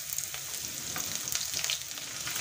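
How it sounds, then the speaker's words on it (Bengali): Green chilies hit hot oil tempered with five-spice, ginger and garlic, giving a bright, close, continuous sizzle with small spattering pops over a short stretch. "এখন আমি কাঁচা লঙ্কা দিয়ে দিচ্ছি।"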